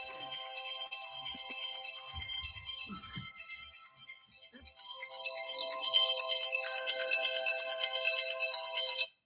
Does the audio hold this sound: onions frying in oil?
no